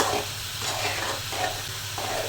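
Vegetables for a mixed curry, eggplant, potato, tomato and ridge gourd, frying in a pan with a steady close hiss and sizzle that swells and eases in soft repeated waves.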